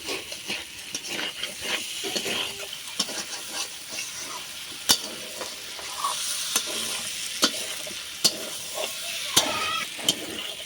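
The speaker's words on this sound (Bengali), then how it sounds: "তো পটল আলু আমার ভালো করে কষে গেছে" Pointed gourd, potato and raw prawns sauté in spices in a pan, giving a continuous sizzling hiss broken by sharp, regular clicks and scrapes of a spatula stirring against the metal, with no voices.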